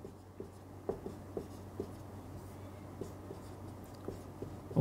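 A pen writing out an integration by hand during a Cauchy residue theorem math lesson, with soft, evenly spaced strokes and taps that are close but faint.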